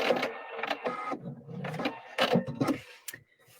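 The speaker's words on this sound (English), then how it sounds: "I'm going to cut my thread here." A PFAFF quilt expression 720 sewing machine trims its thread with a few short motorized whirs and clicks, quiet and close, each burst lasting under a second.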